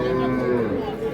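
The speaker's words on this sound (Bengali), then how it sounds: "শাহিওয়াল সিন্ধি গাভী।" A Sahiwal Sindhi cow at a cattle market lows in one sustained, close, loud moo that fills the whole moment.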